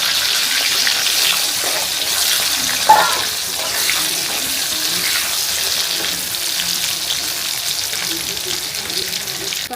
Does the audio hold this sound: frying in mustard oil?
yes